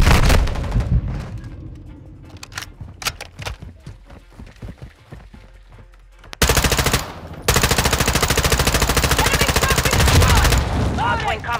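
Sustained automatic gunfire from a gunner in Call of Duty: Modern Warfare II, loud, rapid continuous bursts from about six seconds on, after scattered sharper shots and game effects.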